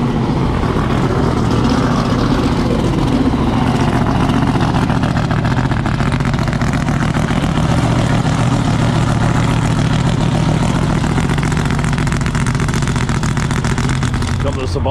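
A pro street car idles at an outdoor car festival with a loud, steady, lumpy rumble filling the whole stretch, while people talk over it.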